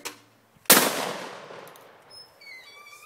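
A single loud shotgun blast at a clay target at Richmond Hunt Club cracks sharply and close, then rings out in a long decaying echo, followed by faint high tones.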